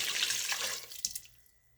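Hot water pours and splashes into the inner pot of a Crockpot Express pressure cooker, a short close gush that tapers off quickly.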